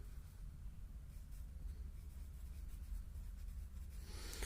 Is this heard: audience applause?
no